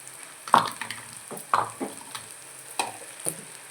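A coarse raw masala of green chilies, garlic and cumin fries in a pan for masala poha, with soft sizzling under several sharp spoon scrapes and stirring knocks, heard up close.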